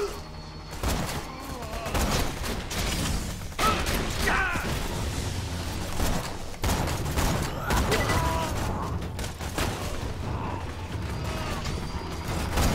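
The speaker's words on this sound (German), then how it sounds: "wenn ich den mit der Infinity-Pistol drauf schieße" Infinity pistol gunfire in the video game Borderlands 2 comes as a dense run of rapid mechanical shots and clanks, loud and continuous, mixed with other game effects.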